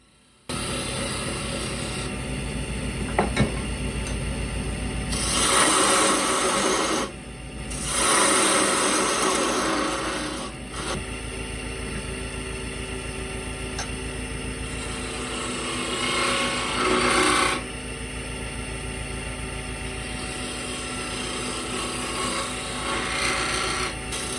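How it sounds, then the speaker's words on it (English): A parting tool cuts into a spinning wooden mouse on a wood lathe, giving a steady, loud rasping scrape over the motor's low hum, with brief pauses and surges as the cut deepens. "Changing the chisel yet again to what we call a parting tool, so I can start to part the mouse off."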